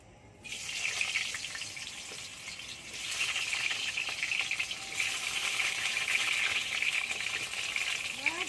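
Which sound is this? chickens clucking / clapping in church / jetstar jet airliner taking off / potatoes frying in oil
potatoes frying in oil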